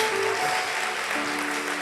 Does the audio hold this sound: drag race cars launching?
no